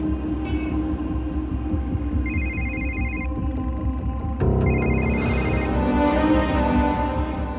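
A telephone rings repeatedly and goes unanswered, heard as two bursts of electronic ringing over a steady background of music or ambience at a train station.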